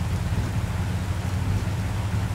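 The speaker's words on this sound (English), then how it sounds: "Freaking rain." Steady rain in the video game Mafia II: Definitive Edition hisses continuously with a low rumble underneath, like a downpour over a car, with no voices.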